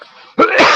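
A single sudden sneeze bursts out close and loud after a brief stretch of quieter sound during a sports podcast.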